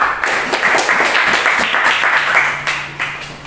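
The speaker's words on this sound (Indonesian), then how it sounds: "tepuk tangan untuk kelompok 4" Students clapping in a classroom for a group that has just finished presenting, a dense spell of handclaps that fades out toward the end, with a faint voice near the close.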